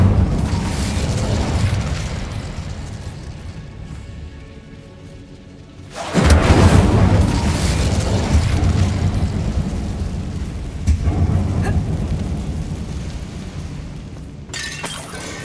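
An Incendio fire spell explodes inside a disused mine in Hogwarts Legacy with a sudden loud, booming burst. A roaring, crackling rumble trails after it, then a second smaller surge follows a few seconds later.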